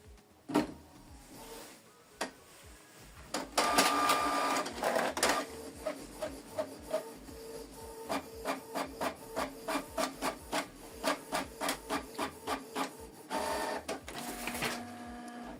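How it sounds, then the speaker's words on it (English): A Canon Pixma TR4756i inkjet printer runs through a test page: a whirring start, then a steady series of rhythmic mechanical passes, close and fairly loud, with no voices. "print test page"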